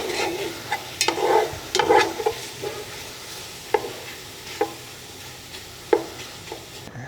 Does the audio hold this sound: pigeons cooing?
no